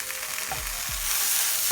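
An egg tortilla wrap sizzles steadily in a single pan, with a soft frying hiss throughout and a few low thumps as it is turned over to cook the other side; no one talks.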